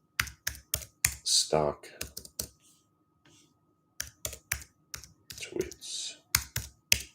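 Close computer keyboard typing in quick clusters of sharp clicks separated by short pauses, with a person speaking briefly between the bursts.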